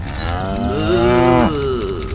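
A cow gives a single drawn-out moo that rises and falls over about two seconds, close and clear, with no talk around it.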